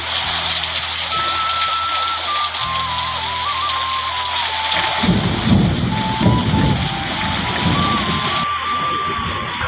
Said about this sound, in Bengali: মেঘ ডাকছে দেখছো শুনতে পাচ্ছো